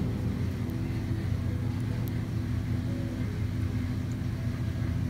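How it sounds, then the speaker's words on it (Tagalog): A snow removal truck arrives on a snowy Calgary street in February, its deep steady engine rumble droning close and loud throughout. "Dumating na yung nagtatanggal ng snow sa amin."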